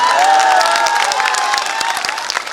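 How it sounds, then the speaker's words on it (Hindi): A large crowd applauds and cheers at an outdoor Jan Suraaj political rally in Bihar, with dense, sustained clapping and scattered shouts heard close and loud for about two and a half seconds, no speech over it. "कैसे ताली बजा दिए, ताली बजा ली।"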